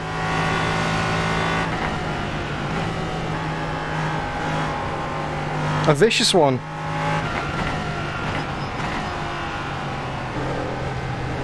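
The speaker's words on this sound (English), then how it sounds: "I can hear the traction control digging in. And when it digs in, it just bogs it" LMP3 race car in iRacing at Phillip Island, engine droning steadily through a corner as traction control cuts in and the revs bog, with a brief harsh burst midway and a commentator talking over it.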